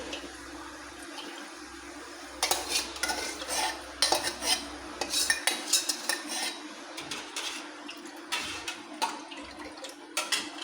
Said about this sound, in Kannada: ಈ ಒಗ್ಗರಣೆ ಕೊಟ್ಟಿರೋ ಪಾತ್ರೆ ಏನಿದೆಯಲ್ಲ, ಇದಕ್ಕೆ ಏನೋ ಸ್ವಲ್ಪ ಈ ಥರ ಹಾಕಿ ಒಳ್ಳಾಡಿಸಿ